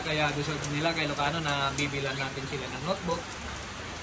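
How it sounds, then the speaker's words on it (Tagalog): Heavy rain pours steadily at a house in the Ilocano area, a constant hiss running beneath a person talking throughout. "Kahit umuulan kay Ilocano, tingnan nyo naman, no? Ang lakas ng ulan"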